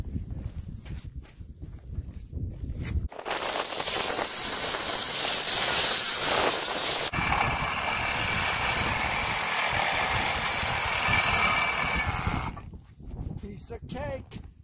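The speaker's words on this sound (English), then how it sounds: "I'm gonna get my saw. I'm gonna cut this off." A saw cuts off a metal part from a vehicle, a loud, steady grinding hiss running about nine seconds with a shift in pitch midway, preceded and followed by quieter background noise.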